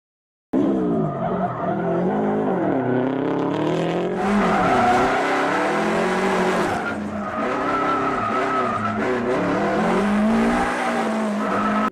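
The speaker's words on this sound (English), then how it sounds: "him just showing off his skill and running through a little like course of different things that you could do in a car. So like donuts, J-turns." A gymkhana car driven by Ken Block spins through donuts and J-turns, its engine roaring continuously under long, loud, wavering tire squeals and skids that swell and shift for the whole stretch.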